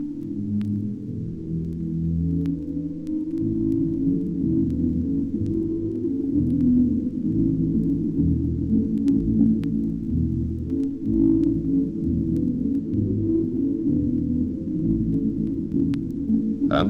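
Vinyl recording of music filtered to keep only the lowest bass, a continuous, muffled rumbling drone of deep tones with a steady pulsing throb and faint surface ticks, loud and sustained with no voices.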